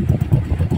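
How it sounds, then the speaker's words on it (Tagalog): A Motorstar 155 motorcycle engine with a broken, holed exhaust idles in a rough, throbbing pulse, loud and close, with uneven beats. "Kaya lang po ganyan ang tunog. Gawa ng tambutso, sira na."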